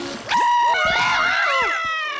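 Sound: cartoon monster screaming

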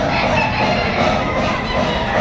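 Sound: rooster crowing at Padre Garcia market

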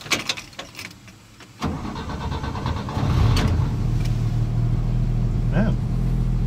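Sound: 1957 Chevrolet 150 inline-six engine starting

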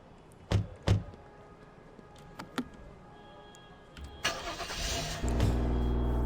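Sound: police car engine starting in video game Flashing Lights

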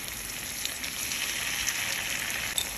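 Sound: chili, garlic and dried chili frying in a pan

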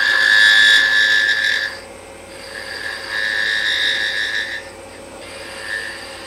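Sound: peeling cuts on wood with a lathe tool

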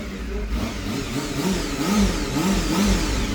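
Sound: vehicle engine running

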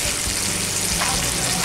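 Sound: potatoes frying in oil

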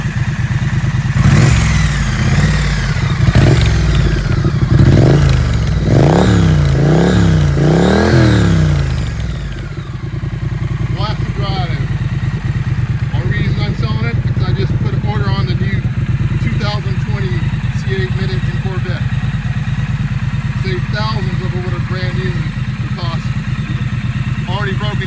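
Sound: 2019 Triumph Street Twin motorcycle engine running

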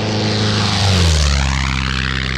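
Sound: Wittman Tailwind experimental propeller plane engine

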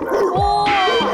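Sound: voice imitating a big dog barking

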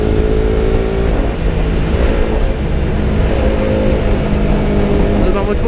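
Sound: KTM RC 200 motorcycle riding and shifting gear

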